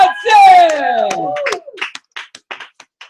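Applause for a poet at a spoken word poetry event opens with a loud, sliding vocal whoop and cheer, then thins into a handful of scattered, separate claps that fade out.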